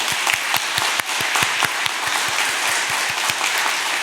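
A church congregation at a Korean service honoring retiring elders and deacons applauds, producing dense, steady rhythmic clapping that fills the room at moderate loudness with no voices over it.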